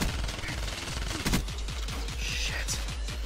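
Rapid bursts of automatic gunfire from Call of Duty: Black Ops 3 rattle in a fast, regular rhythm, fairly quiet and compressed under a steady low hum.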